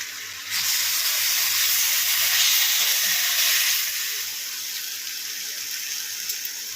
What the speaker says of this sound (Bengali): অল্প একটুখানি 2 চামচ মতো জল দিলাম।